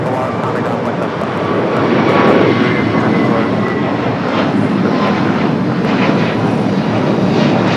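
An Airbus A321neo jet rolls down the runway on takeoff at Los Angeles airport, its engines producing a loud, steady broadband roar that builds slightly and holds throughout.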